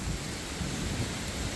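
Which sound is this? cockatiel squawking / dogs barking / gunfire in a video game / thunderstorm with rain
thunderstorm with rain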